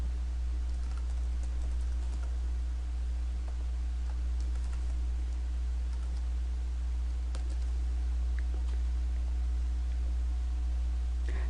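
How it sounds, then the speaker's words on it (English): Someone typing an answer into a quiz box on a computer keyboard, sparse, faint key clicks over a steady low electrical hum, with no talking. "they click on the box and type their answer."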